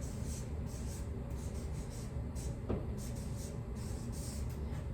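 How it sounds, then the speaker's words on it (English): Faint pen or marker strokes while writing out a word definition, soft scratchy friction in short repeated bursts over a low steady room hum, with no talking. "Let's write that down."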